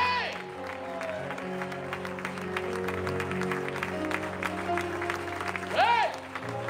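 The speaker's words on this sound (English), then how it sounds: "Just clap your hands here." Church congregation claps hands together amid a lively worship service, the clapping mixed with voices, singing and sustained organ-like tones, with a loud sung shout near the end.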